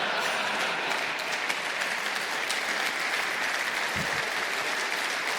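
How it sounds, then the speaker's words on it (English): An audience applauds at a gaming fan convention keynote, a dense steady clapping that holds evenly for several seconds with no talk over it. "the effort and planning by their leadership deserves an applause"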